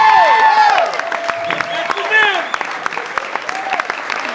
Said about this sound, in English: Clap your hands, Bill Mattson, first time on stage. One more big round, Bill Mattson.